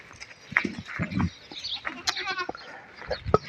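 Goats on a large open goat farm, with several clear, close bleats scattered across the clip, some loud and some fainter.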